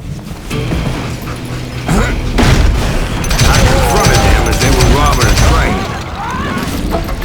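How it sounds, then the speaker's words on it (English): Gunfire and explosive booms in the Western shooter Call of Juarez: Gunslinger, with loud overlapping shots and blasts in a dense, continuous barrage throughout. "Bullets were flying at me from every which way."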